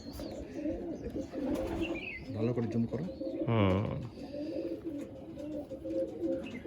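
Champion-bloodline racing pigeons in a loft give soft, throaty coos in a couple of short bursts, with people talking close by throughout.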